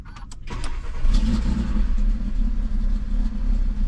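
A car engine with push-button start cranks with a few quick clicks, catches and settles into a steady low rumbling idle, close to the microphone; the engine seems not to be running well.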